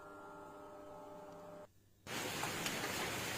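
Rain falling, heard from a home kitchen during a rainy day: a low steady hum gives way to a brief near-silent gap, then a dense, loud, even hiss of rain fills the rest.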